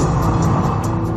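Ayrton Senna's Williams Formula 1 car at full throttle on the seventh lap, a loud, dense, sustained engine roar with no break through the short burst.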